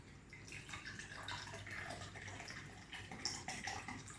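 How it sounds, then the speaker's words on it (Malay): Warm water is poured into a glass during a school chemistry practical on reaction rates, giving a faint, continuous watery splash and trickle over a few seconds with no voices. "kita isikan gelas yang pertama dengan air."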